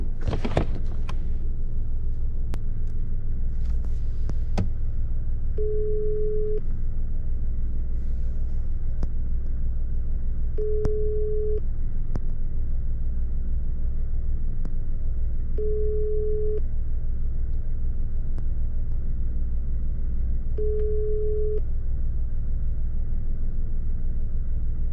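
Telephone ringback tone while placing a call, heard as four evenly spaced beeps about five seconds apart over a steady low rumble like a car interior, with no talk.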